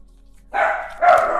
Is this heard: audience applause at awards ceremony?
no